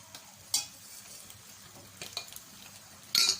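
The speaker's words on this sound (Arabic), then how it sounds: "بس هفضل بقى اقلبها في السمنه كده لغايه اما تاخد لون" Meat stirs and fries in ghee with nutmeg, black pepper, salt and mastic: a soft, steady sizzle with scattered spoon scrapes and clinks against the pan, plus a sharper knock near the end.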